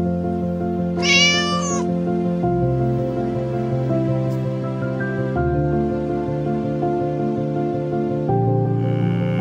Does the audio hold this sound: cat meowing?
yes